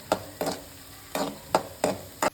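Curry leaves fry in oil in a pan for carrot rice, with about six short sizzling, stirring scrapes at uneven intervals, close and clear with no talking.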